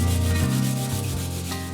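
Short, close back-and-forth rubbing as 600 grit sandpaper wrapped around a piece of foam is worked over guitar frets, a soft rhythmic scratch with no talking.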